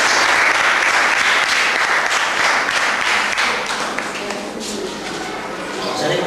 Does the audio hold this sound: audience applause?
yes